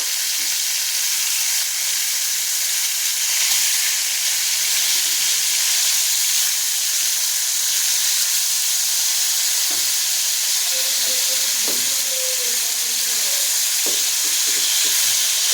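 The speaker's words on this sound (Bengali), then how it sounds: "তেলটা গরম হয়ে গেছে এখানে এরপর টমেটোগুলোকে তেলের মধ্যে দিয়ে দেব" Tomatoes fry in hot oil in a pan, giving a steady, close sizzling hiss throughout with a few soft clinks and stirring sounds near the end.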